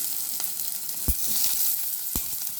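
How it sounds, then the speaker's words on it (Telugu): Carrot, potato and capsicum frying in hot oil with curry leaves and green chillies, a continuous close sizzle with two brief knocks of a spoon against the pan. "ఇప్పుడు క్యారెట్, బంగాళదుంప, క్యాప్సికమ్ వేసి వేగించుకోవాలి"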